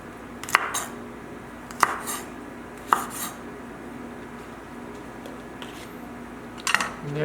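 A knife strikes a cutting board while peppers are sliced, with a few sharp, separate clacks spaced out over a quiet kitchen background.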